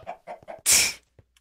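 A video game chicken gives a few quick soft clucks in a short run, followed by a louder, harsher squawking burst, then quiet.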